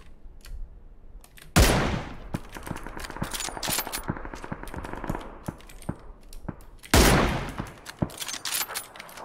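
Rapid bursts of automatic gunfire from the PUBG battle royale game, with sharp loud volleys near 1.5 and 7 seconds amid a steady rattle of shots and clicks, no talking.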